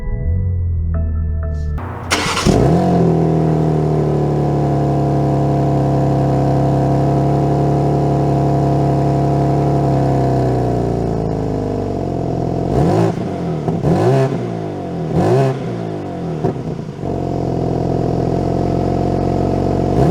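A 2022 BMW M3 Competition fires up with a sharp revving burst, then holds a steady engine drone before several quick rises and falls in pitch as it accelerates through gear changes, loud and close from inside the car.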